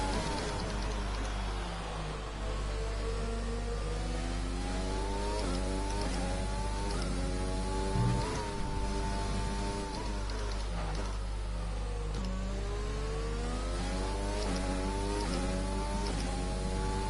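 Formula 1 race car engines in the F1 2020 racing game during an online lobby race, a continuous high-pitched whine rising and falling with gear changes, loud and steady with no talk.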